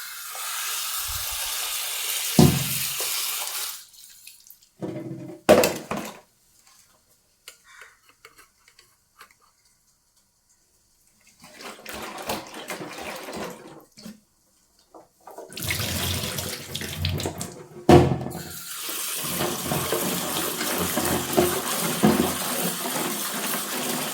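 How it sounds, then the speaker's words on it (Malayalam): Jackfruit seeds are washed under running tap water in a kitchen, with bursts of gushing and splashing water separated by quiet gaps and occasional clinks. "രണ്ട് 3 വെള്ളത്തിലൊന്ന് കഴുകാൻ, അതിൻ്റെ കറയൊക്കെ ഒന്ന് പോകണം."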